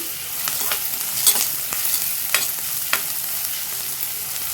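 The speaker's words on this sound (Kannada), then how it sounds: "ಕರಿಬೇವಿನ ಸೊಪ್ಪು ಸ್ವಲ್ಪ ಹಾಕ್ಕೊಳ್ತೀನಿ, ಇದನ್ನು ಹಾಕ್ಕೊಂಡು ಫ್ರೈ ಮಾಡ್ಕೊಳ್ತೀನಿ" Curry leaves frying in a pan, a soft, steady sizzle with a few light crackles and stirring scrapes, close and unaccompanied by voices.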